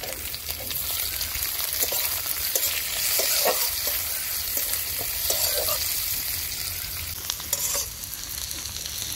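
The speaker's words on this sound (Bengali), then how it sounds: "পেঁয়াজ রসুনটা ভেজে নিয়েছি।" Chopped onion and garlic fry in oil with whole cumin for an egg curry, a dense, continuous sizzle close by with occasional soft stirring scrapes and no talking.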